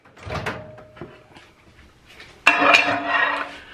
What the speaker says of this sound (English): Put it in the microwave like that.